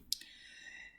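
A single quiet computer mouse click, a brief sharp tick near the start followed by faint background hiss.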